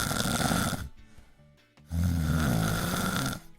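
A person imitates a father snoring with two long, loud rasping snores split by a short quiet gap, close to the mic and with no other talk.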